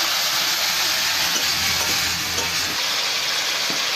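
Tomato paste and chili powder fry in a pan for a jackfruit and catla fish curry, with a loud, continuous sizzle and faint stirring scrapes underneath.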